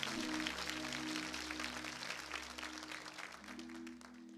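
A church congregation claps loudly and continuously during a Catholic sermon, the dense applause sustained over held musical tones throughout.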